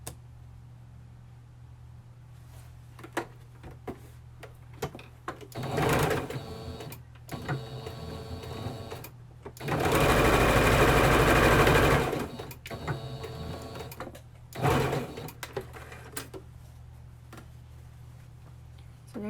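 A sewing machine runs in several bursts as it stitches across a shoulder seam with back and forward stitching, with one longer steady run between the short stops and quiet gaps.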